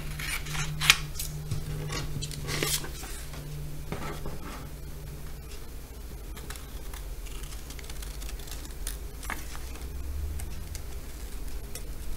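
Scissors snip through paper, cutting out a heart traced for a handmade Valentine card; a run of close, crisp snips and rustles over a quiet room hum, with no talk.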